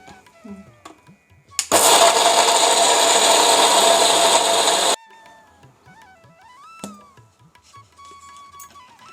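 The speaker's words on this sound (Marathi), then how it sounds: "शेंगदाणे आणि गूळ मिक्सरला बारीक करून घेते" A kitchen mixer grinder whirs loudly and steadily for about three seconds, blending peanuts and jaggery, then cuts off abruptly, leaving faint clatter and quiet background tones.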